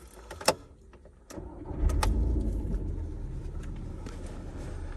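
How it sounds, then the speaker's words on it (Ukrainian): A 2008 Skoda Octavia A5 with a five-speed manual gearbox cranks briefly, then its engine catches and settles into a steady, even idle, recorded close up with no talking. "Заведемо автомобіль."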